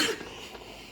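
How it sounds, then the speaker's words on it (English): A single short cough, close and fairly quiet, with a burst at the start that fades into soft room tone. "cough."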